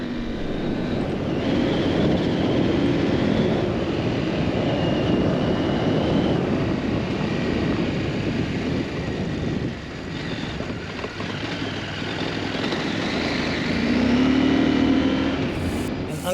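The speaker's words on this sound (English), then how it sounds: "With the offset crankshaft, the bike sounds and feels like a V-twin." A KTM 890 Adventure R parallel twin with an offset crankshaft drones steadily under load while riding on gravel, a dense rumbling engine note with wind buffeting and crunching from the ground.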